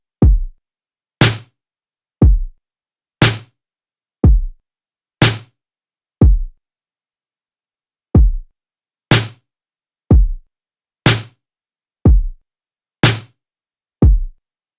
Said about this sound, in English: I pretty much started off with this drum pattern here. It's just a simple boom, tap, boom, tap.